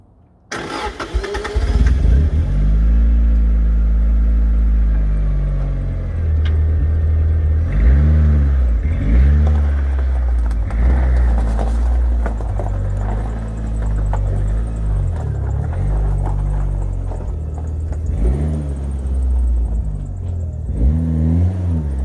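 A Lotus Elan SE M100 cranks and starts, then revs and drives off on a quiet late road, the engine rising and falling through repeated accelerations and gear changes, loud and near.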